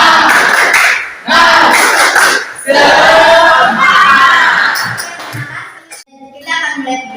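Standing students in a classroom perform a rhythmic spirit clap, loud bursts of group clapping and chanted voices in quick patterned beats, with short pauses between phrases, close and energetic.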